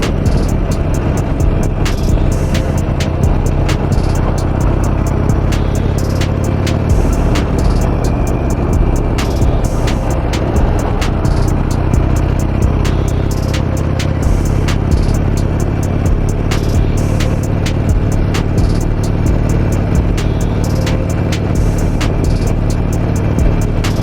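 A 17-year-old Harley-Davidson Nightster motorcycle chugs through Friday evening traffic near a bridge, its steady low engine rumble continuous and close, overlaid by wind buffeting and scattered sharp clicks, with no talking.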